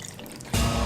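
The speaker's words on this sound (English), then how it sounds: "I'm gonna put a little bit of this extra creamy oat milk." Extra creamy oat milk is poured over ice, starting with a few light drips before a sudden, steady pouring stream close by.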